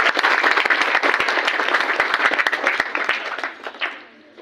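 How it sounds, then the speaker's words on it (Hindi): A crowd claps loudly in dense, sustained applause that thins out and fades toward the end. "जोरदार तालियां"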